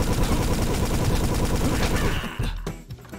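Dense gunfire from Toaster Defense, a tower defense and platformer game, rattles loudly and continuously as rapid overlapping shots, then cuts out abruptly, leaving a few scattered, quieter pops.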